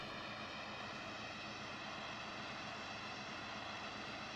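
Steady airliner engine drone from Microsoft Flight Simulator X as the plane taxis, a continuous loud hum with layered tonal whine, alone without talk.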